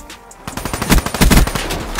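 In a first-person shooter video game, a burst of automatic gunfire comes in quick, loud, rapid shots that crowd together after a brief quiet start.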